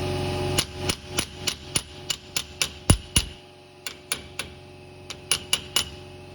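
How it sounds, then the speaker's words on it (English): Repeated sharp metallic hammer taps driving a pinion seal into the rear differential of a 2010 Ford Raptor, evenly spaced in a steady rhythm with a brief pause midway, close and fairly loud with no talking. "Just gotta tap it in. The hammer!"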